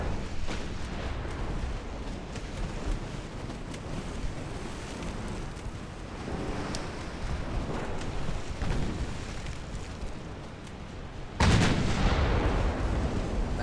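Heavy 7.2-inch naval guns fire in Ultimate Admiral: Dreadnoughts, a constant rumbling barrage of distant blasts with scattered sharper booms, ending in a louder, closer surge of gunfire.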